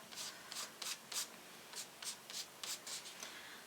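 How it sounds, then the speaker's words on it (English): Paint being rubbed onto the edges of a craft piece for a distressed look, a series of soft, short brushing strokes in a quick uneven rhythm, close and faint. "So I'm just rubbing some paint on the edges."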